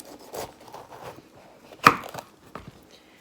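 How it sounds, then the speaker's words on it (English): A knife cuts poblano chilies in half on a board, a few soft cuts and one sharp crisp chop at close range, with quiet handling sounds around it. "we are gonna get our chilies ready for roasting. So I'm gonna cut them in half."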